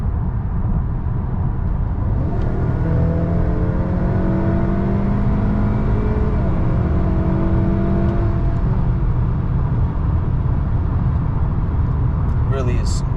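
Honda Accord 2.0t with a 10-speed automatic and Stage 3 tune, pulling hard on a highway after a kick down: a steady, loud engine drone rising in pitch, then easing off as the shift comes, with someone talking over it.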